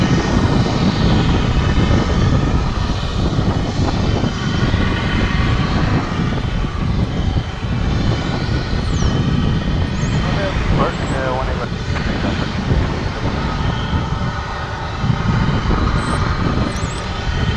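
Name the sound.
UPS cargo plane arriving at DFW airport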